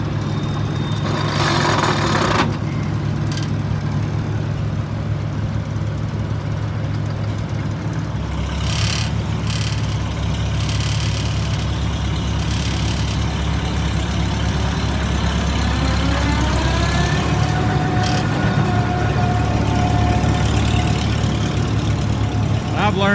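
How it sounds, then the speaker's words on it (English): A 70-year-old tractor engine runs at a steady low idle, with a heavy rumbling drone that continues under a voice as the PTO is engaged for a grinder mixer. "Not too bad for a 70-year-old tractor, huh? Now we gotta push the clutch and turn the PTO on"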